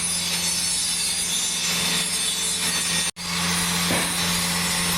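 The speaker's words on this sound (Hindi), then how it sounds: "ये जो प्रोसेस हो रहा है इसे बोलते हैं ग्राइंडिंग।" Harsh, steady metal grinding finishes MIG welds in a mobility-equipment manufacturing unit, a continuous abrasive roar over a low machine hum that cuts out for a split second midway and resumes.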